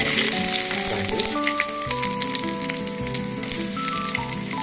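Chopped garlic sizzles steadily in hot olive oil in a pan, the opening step of sautéed bitter melon, a continuous close crackling hiss with faint tonal music playing throughout and no talking.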